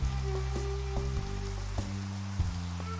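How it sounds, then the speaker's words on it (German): Rain falling in the video game Minecraft makes a steady, even hiss of patter. Low, sustained tones and occasional soft clicks sit beneath it, and no one is talking. "Ah, der Regen, der nervt schon wieder ein bisschen"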